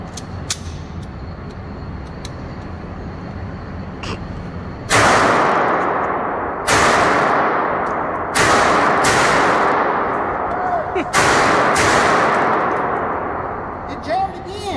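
Beretta 950 Jetfire .25 ACP pistol fired outdoors in four or five loud, sharp shots at spaced intervals, each with a long decaying echo.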